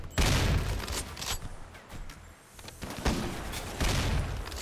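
Gunfire and explosions in a battle in the video game Rimworld, a dense fusillade of shots with heavy booms, loud and continuous throughout.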